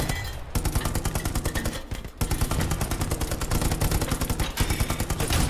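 Dense, rapid gunfire from the WW2 video game Hell Let Loose: rattling automatic bursts and overlapping shots run almost continuously, loud and close, with only brief gaps.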